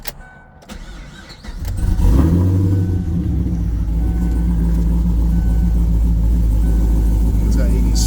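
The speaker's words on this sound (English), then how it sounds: "let's fire it up and let's hear that cam." A Cummins-powered truck with a cammed engine cranks, fires up and settles into a loud, deep, lumpy idle with a rev, the rumble close and continuous after a brief starter whir.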